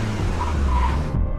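A car skids hard with a loud, sustained tire screech over engine rumble, a dramatic movie sound effect of a vehicle hitting a man, cutting off abruptly at the end.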